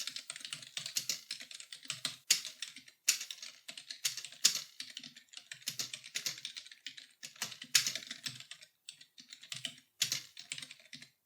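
Someone types text on a computer keyboard, producing steady, close clicking keystrokes in quick irregular runs with brief pauses and no talking.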